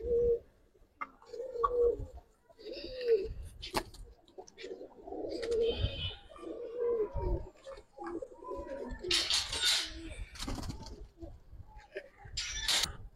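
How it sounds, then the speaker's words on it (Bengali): Old-breed khoira pigeons coo repeatedly up close in low, rolling throaty phrases, broken by wing flutters, rustling and scattered clicks, with no talking. "পুরান জাতের খয়রা কবুতর।"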